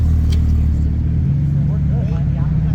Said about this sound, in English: What is pulling up? Beautiful RX-7.